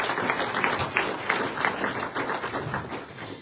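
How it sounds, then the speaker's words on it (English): A dinner crowd gives a round of applause for Mark Lapka, a farmer and rancher guest, with steady clapping that has a few distinct louder claps and thumps and tapers slightly toward the end. "Yes, please give him a round of applause"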